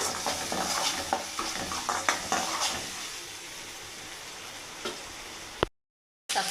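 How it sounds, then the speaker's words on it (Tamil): Ginger garlic paste and onions fry in a pan, sizzling steadily up close while a utensil stirs and scrapes with repeated clinks. The sizzle fades toward the end, then there is a short gap of silence. "இப்போ வந்து இஞ்சி பூண்டு பேஸ்ட் போட்டுக்கலாம்."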